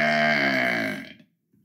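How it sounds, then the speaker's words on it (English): A single long, loud, close-up burp, drawn out for about a second before fading into quiet. "today we are doing the burp video"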